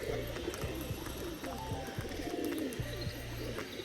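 Rajshahi pigeons coo near a nest in Bangladesh, with repeated low throaty coos and soft chirps close by.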